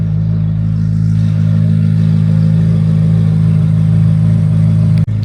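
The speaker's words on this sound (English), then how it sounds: "So if you got a Z06 and want exhaust like this, check us out" A C8 Corvette Z06 with a catless F1 track exhaust idles loud and close, a steady deep rumble that holds throughout and cuts off with a brief dip near the end. No one speaks.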